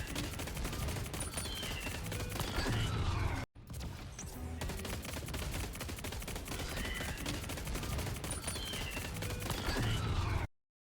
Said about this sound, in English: Is that a burst? Is that a burst LMG?